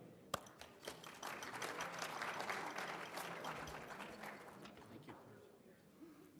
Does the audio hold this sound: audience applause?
yes